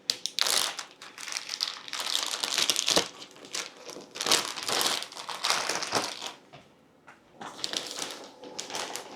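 A bag crinkles and crunches in repeated bursts while dehydrated basil is packed into it with a paper towel, loud and close, with brief pauses between handlings.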